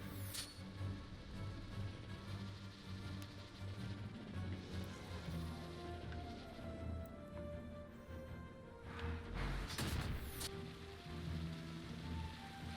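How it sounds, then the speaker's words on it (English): Rain falling in the Final Fantasy XII game world, a steady broadband hiss running throughout beneath layered game music, with a louder gust or rumble near the end. "Oh, but now it's raining!"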